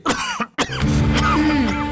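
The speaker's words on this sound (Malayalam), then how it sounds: "നെഞ്ച് നിറയെ കഫവാ, അതാ ഇങ്ങനെ കൂടെ കൂടെ ചുമക്കുന്നത്" Harsh, congested chest cough followed by throat clearing, a few sharp bursts then a drawn-out rattling hack, close and loud with no talk.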